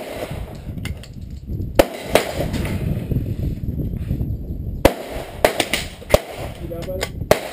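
Winchester 67 rifle fired outdoors at steel plates, a series of sharp single cracks spaced a second or more apart over steady background noise, each followed by a faint ring from the struck plate.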